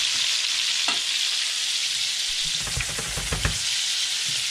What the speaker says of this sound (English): Get it in that butter bath.